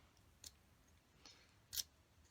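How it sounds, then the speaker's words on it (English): Scissors make three quick, crisp snips spaced apart, close and fairly quiet against a hushed room. "I'm going to grab my scissors."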